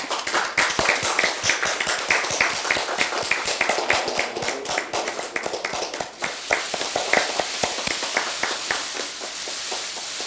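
Audience applause welcomes Hong Jeong-min at a Democratic Party of Korea new-member announcement event, dense steady clapping from a sizeable crowd that holds for about ten seconds without talk.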